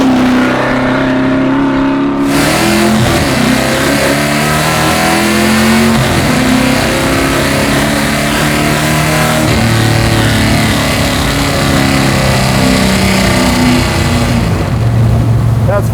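A garage-built 1972 Dodge Duster set up NASCAR-style revs loudly and continuously at close range, its engine note rising and falling in sustained pulls for about sixteen seconds, with a voice faintly present underneath.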